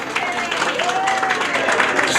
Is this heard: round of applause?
yes